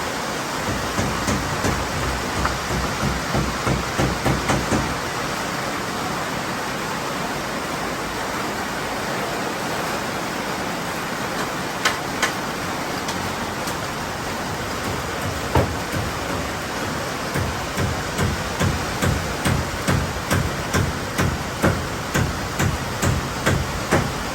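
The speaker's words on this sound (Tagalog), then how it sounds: "Naabutan kami ng ulan." Steady heavy rain hisses throughout, a dense continuous wash, with occasional sharper taps and knocks over it.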